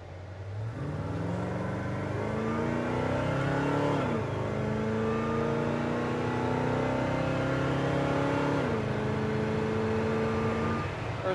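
A 1969 GMC C1500 pickup truck's engine revs up and accelerates hard, rising in pitch through the gears with a gear shift around four seconds and another near nine, loud and steady from inside the cab.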